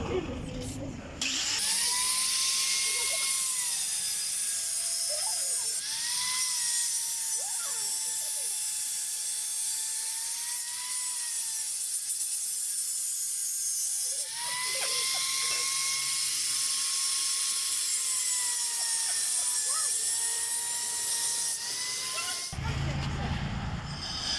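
A power tool cuts through a bicycle handlebar extension with a steady, whining metallic drone over hissing noise for around twenty seconds, dipping briefly midway before resuming.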